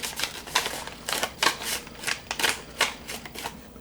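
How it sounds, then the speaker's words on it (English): Sheet of paper folded and creased by hand into a paper fortune teller, a run of crisp rustling crackles and flaps at a steady irregular rhythm, close and fairly loud with no talking. "fold this over"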